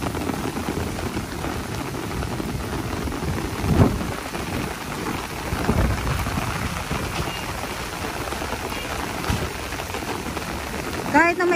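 Heavy rain pours down suddenly at Dolomite Beach on Manila Bay, a dense, loud, steady roar of drops drumming on surfaces, with a few heavier gusts and distant rumbles through it.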